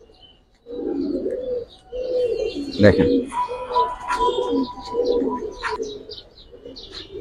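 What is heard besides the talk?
Pakistani pigeons cooing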